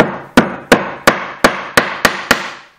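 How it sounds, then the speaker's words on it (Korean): A hammer strikes a metal zipper stop on a leather single-slider zipper, flattening it: eight sharp, loud knocks in a steady, even rhythm, close by with nothing else underneath. "그리고 난 다음에 망치로 때려서"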